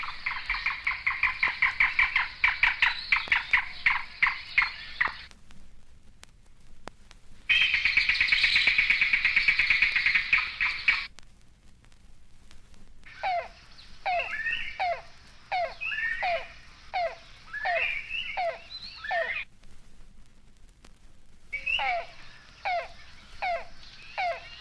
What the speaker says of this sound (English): The yellow-billed cuckoo, nicknamed rain crow, is a shy woodland bird more often heard than seen.